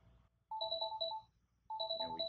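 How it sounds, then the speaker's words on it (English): Incoming call notification ringtone from Genesys Cloud contact-centre software, two bursts of a bright repeating electronic chime pattern separated by a short silence, clear and close. "is that we're gonna get a notification"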